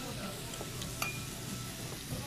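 A soft continuous sizzle of meat cooking, with occasional light clinks of utensils in a busy restaurant room.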